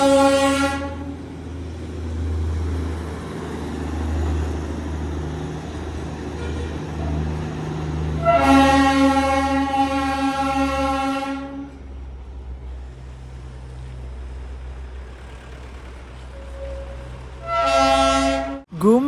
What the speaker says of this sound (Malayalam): ഇതേ ട്രെയിൻ വരികയാണ്.